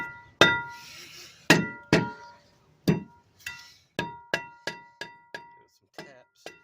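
Hammer taps on a car brake rotor during removal on a 2018 Dodge Challenger, about a dozen sharp metallic clinks, spaced widely at first and then coming quicker, each ringing briefly before dying out.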